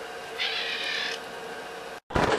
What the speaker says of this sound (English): go feed the kitty cat